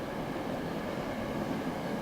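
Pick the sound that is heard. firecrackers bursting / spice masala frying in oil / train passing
train passing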